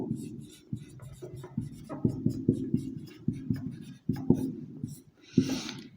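Marker or chalk writing math on a board or paper, a steady run of short scratchy strokes with brief pauses between them, close and fairly loud, with no talk.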